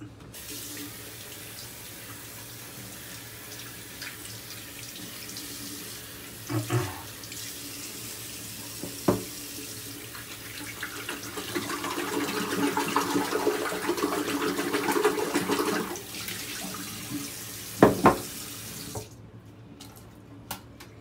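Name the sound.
water running from tap onto shaving brush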